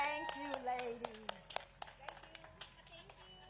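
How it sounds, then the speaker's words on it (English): Audience applause at a live celebration of life program in Hawaii: a thinning round of individual hand claps, sharp and distinct, tapering off after a few seconds with some voices underneath. "So let us give them a rousing round of applause"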